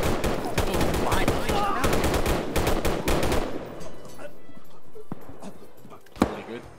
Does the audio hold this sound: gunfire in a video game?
yes